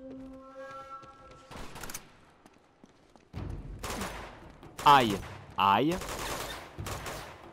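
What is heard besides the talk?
gunfire in video game Uncharted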